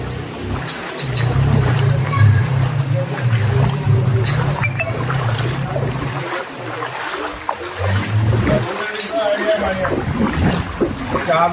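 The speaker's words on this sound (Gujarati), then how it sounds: "જો પાણી જો આમ જો ગામમાં નદી આયલી જાય છે" Floodwater rushes and churns steadily through village streets in Kashipara during heavy rain, a broad continuous wash, while voices talk over it throughout.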